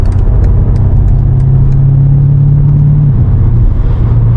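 A BMW M5 Competition engine hums low and steady at night, its pitch rising a little as it pulls forward, then dropping back near the end, heard from inside the car.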